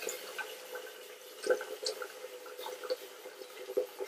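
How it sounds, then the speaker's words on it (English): Cold water runs into a soup pot over sautéed onion, celery and carrots seasoned with salt and pepper, a quiet, steady trickle with light splashes and drips, heard close and alone. "We're just going to go ahead and add some cold water to our sauteed onion, celery, and carrots, salt and pepper."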